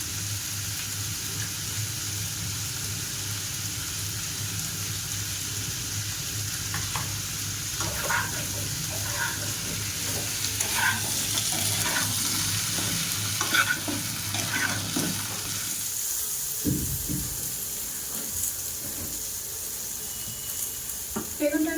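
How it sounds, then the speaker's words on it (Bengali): Continuous loud sizzling of eggplant frying in a wok, with scraping stirs and clinks in the second half; a low hum fades partway through. "কড়াইতে দিয়েছি বেগুনটা ভাজা হচ্ছে"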